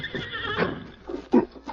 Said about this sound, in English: he heard a sound, the whinny of his great horse Silver